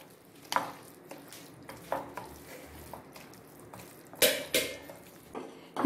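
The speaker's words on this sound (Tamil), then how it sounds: "நல்லா கலக்கிக்கணும்" Apple cake batter being stirred in a bowl, a series of soft scraping and tapping strokes at an irregular pace, fairly quiet and close, with no voices.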